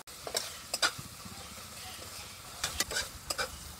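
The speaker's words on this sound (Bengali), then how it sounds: "মশলাটাকে একটু কষিয়ে নেব" Spice masala with salt and turmeric powder sautés quietly in a pan, a soft sizzle broken by a few brief scraping strokes of stirring.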